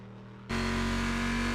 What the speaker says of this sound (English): You have to speak over this loud engine.